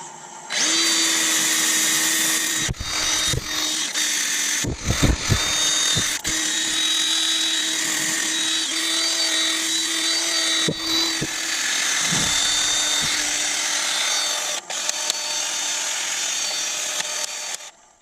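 Abrasive paper rubs on an ash and resin bowl spinning on a wood lathe at slow speed, a steady close whirring hum with a faint tonal drone, broken by a few brief pauses and knocks.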